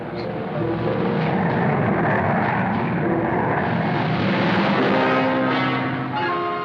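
A military jet aircraft engine roars loud and continuous from the 1951 era, a dense, steady rumbling wash that swells slightly and holds throughout without a break.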